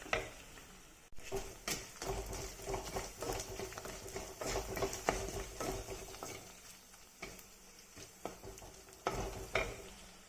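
Onions sautéing in a pan for fish curry, a soft continuous sizzle broken by repeated scraping and stirring clatters at an irregular pace, fairly close, without speech.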